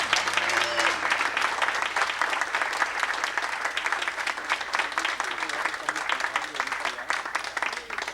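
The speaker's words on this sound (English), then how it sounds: "So please clap your hands for Fernando Duenas." A high school baseball banquet crowd applauds a player, sustained loud clapping filling the room from start to finish with faint voices beneath it.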